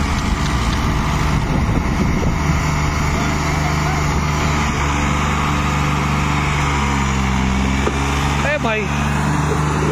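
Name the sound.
New Holland tractor engine running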